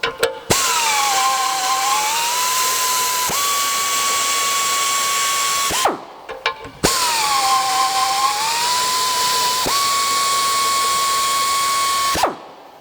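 A drill tapping threads into a Logbullet forestry machine part, two long runs with a steady high motor whine that dips and then holds, each ending abruptly, separated by a short pause.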